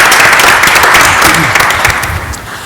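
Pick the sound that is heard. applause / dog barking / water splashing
applause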